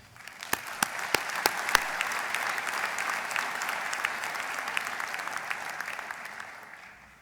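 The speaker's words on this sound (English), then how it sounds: "Congratulations and a round of applause for the graduates." A large audience at a veterinary science graduation ceremony gives a sustained round of applause, dense and even, swelling in after a few crisp early claps and slowly tapering off, heard from a slight distance in a big hall.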